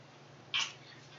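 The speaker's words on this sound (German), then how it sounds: "meine Katze ist heute sehr aufmerksamkeitsbedürftig." A house cat gives one brief, sharp meow-like cry, close and distinct against a quiet background hum.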